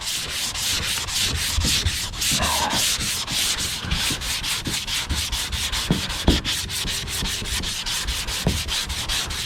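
Primer on a Cobra Daytona replica body being block sanded by hand in crisscross strokes, giving a steady, close, continuous scratchy rasp with a fast regular rhythm and no pauses.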